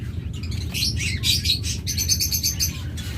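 King quail call in a cage with short high chirps and tweets in quick bursts, fairly close, over a low steady background rumble.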